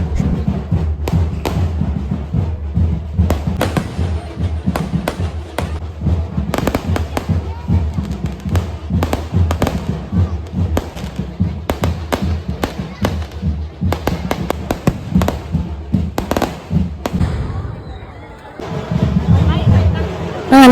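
Dense, rapid bursts of fireworks crackle and boom continuously, loud and close, with a crowd murmuring underneath and a brief lull near the end.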